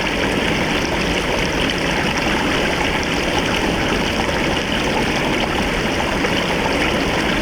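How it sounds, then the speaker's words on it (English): Water pours steadily over a partially broken beaver dam on a Missouri creek, a constant close, loud rushing and trickling wash with no voices. "it's a partial dam break also, but the water was flowing over there"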